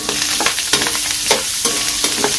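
Fatty meat fries hard in hot oil, a loud, dense sizzle punctuated by repeated sharp pops and splatters at an uneven rhythm, close and with no voices.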